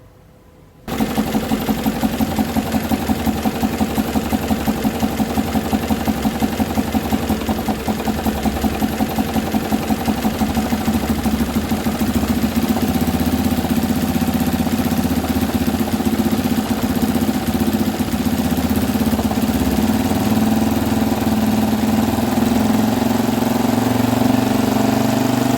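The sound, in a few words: engine revving at highest RPM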